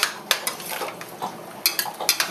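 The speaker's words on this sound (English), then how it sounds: "Stir this up." Old Bay seasoning being stirred in a pot for scallops gives sharp metal-on-pot clinks and scrapes at an irregular rhythm, with two clusters of louder taps near the start and end, close and fairly loud with no talking.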